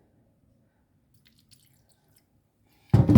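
Water from a freshly watered Phalaenopsis orchid in a decorative pot, a quiet stretch ending in a sudden, loud burst of dripping and splashing close by.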